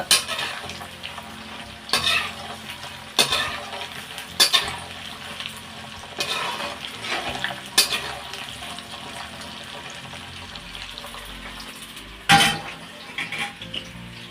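Peanut pakoda frying in hot oil while being stirred, with steady sizzling broken by several loud scraping stirs of the spoon at intervals, close up and without talk.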